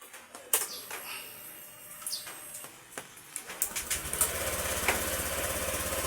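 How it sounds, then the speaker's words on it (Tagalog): A motorcycle engine starts after a few clicks and knocks and settles into a steady, low idle that keeps running, with some bird chirps in the background. "i-on na natin ulit yung ating motor at paanda rin ng 10 to 15 minutes"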